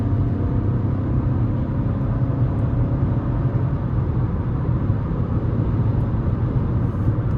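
The 1.2-litre turbocharged three-cylinder engine of a 2026 Chevy Trax 1LT pulls hard under acceleration. A steady, heavy low drone and road rumble fill the cabin throughout, with no talk.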